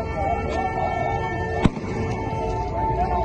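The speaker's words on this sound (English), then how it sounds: "They have started shooting us tear gas." Police fire tear gas at protesters, with a single sharp bang cutting through a continuous crowd murmur and faint siren-like tones.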